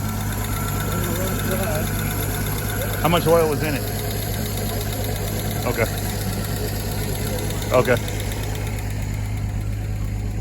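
An old junkyard car engine idles steadily at operating temperature with a low, even hum, while a few short bursts of nearby conversation break in over it.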